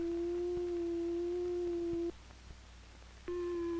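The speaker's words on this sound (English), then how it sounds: "Each oscillator produces a different kind of sound with a different wave form. This is a sine wave." A steady pure electronic sine-wave tone from a 1970s synthesizer oscillator holds for about two seconds, drops out briefly, then returns brighter with added overtones; clean, loud and sustained with no talk.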